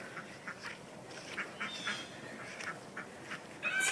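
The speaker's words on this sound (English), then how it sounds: "I gotta go let the ducks out." Ducks quack repeatedly as they are let out of their pen in the morning, a run of moderately loud calls at close range with no talking.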